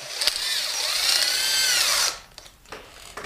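A power drill whines in reverse for about two seconds, backing a tapping tool out of a stripped head-bolt hole in an aluminum LS V8 engine block, then stops with a few faint clicks and handling noises.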